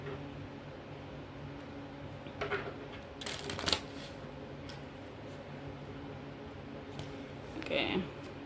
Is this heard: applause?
no